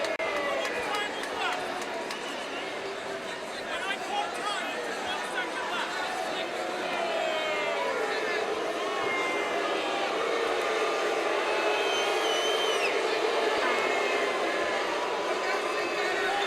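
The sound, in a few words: roar of the crowd at an MMA fight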